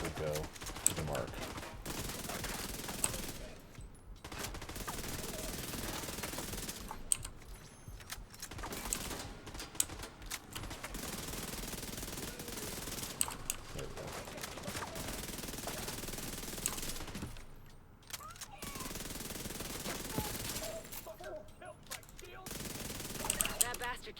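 Repeated automatic gunfire from The Division 2 video game rattles in steady bursts throughout, with brief pauses between volleys and a voice talking over parts of it.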